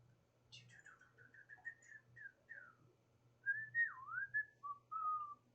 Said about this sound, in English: Sorry about the whistling